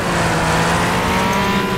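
A racing car engine in a racing video game roars loudly and steadily, revving hard throughout with no pause.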